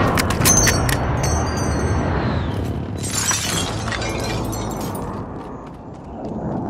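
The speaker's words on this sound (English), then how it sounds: "friendly precision airstrike inbound" Airstrike explosions in Call of Duty Modern Warfare crash with heavy booms and shattering debris, a loud blast early followed by another burst of rumble and crackle, with faint game chatter sounds.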